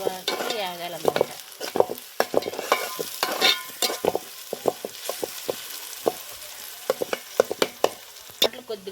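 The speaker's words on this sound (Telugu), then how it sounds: "ఎంత మంచిగా వేగాలి, పచ్చివాసన పోయేంత వరకు వేగాలన్నమాట" Bottle gourd curry with salt sizzles in a pan while a utensil stirs it, giving rapid irregular scraping clanks over a constant close frying hiss, with no speech.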